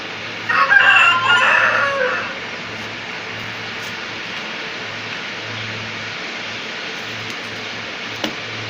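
A fan-tailed, parrot-beaked rooster with crow-black colouring gives one loud, close cock-a-doodle-doo lasting about two seconds, then only faint background noise remains.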